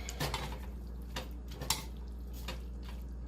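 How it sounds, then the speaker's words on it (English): Bow tie pasta being stirred in a pot for chicken paprikash: soft scraping and light clinks of a spoon against the pot, irregular and quiet over a steady low hum. "We'll just put that in and give it a mix"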